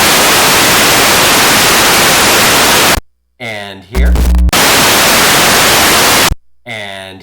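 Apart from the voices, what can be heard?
synthesizer noise source, loud white noise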